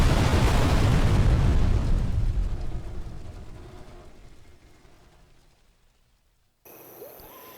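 A big explosion booms in Sniper Elite 3, a loud broadband blast that rolls off over several seconds and fades into near silence before faint ambient noise returns.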